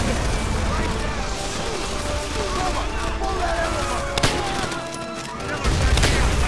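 Call of Duty: World at War gunfire crackles in rapid bursts and scattered sharp shots against a busy, loud battlefield din, with a sudden heavier blast near the end and a voice talking over it.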